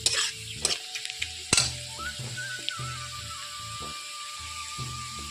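Onions sizzle in hot oil with a dried red chilli and a bay leaf, a steady bright frying hiss broken by a few sharp clinks and scrapes of a stirring utensil early on.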